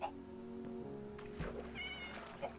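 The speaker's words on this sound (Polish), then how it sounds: "Mamy drugiego czarnego kotka." A black cat meows in Minecraft, a few short game meows standing out over a steady background soundscape, with no talk.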